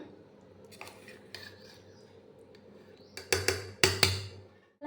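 A metal utensil stirs a steamed fish dish of chopped bottle gourd leaves in a pan. Light scrapes give way to a loud cluster of clanks and knocks near the end, close by, with no talk.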